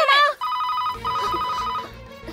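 A telephone rings with a repeated electronic bell tone, loud and close, following a brief burst of voice at the start, in an indoor Hindi-dubbed action movie scene.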